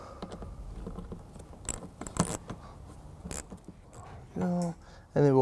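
Metal clinks and rattles of a wrench working loose two 8mm bumper bolts on a 2012 Mini Cooper Countryman, close and irregular, ending in two short bursts of ratcheting or whirring.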